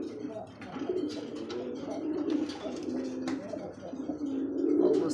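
A male pigeon of the red Raj Golla breed coos repeatedly in low, throaty calls, close and steady throughout, with faint background voices.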